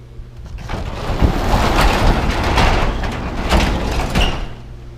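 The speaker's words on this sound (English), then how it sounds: "shut the door" The door of a 1990 Ford F350 with a 7.3 IDI diesel slides and thuds shut, a rumbling, rattling stretch of movement with a couple of heavier knocks, heard up close.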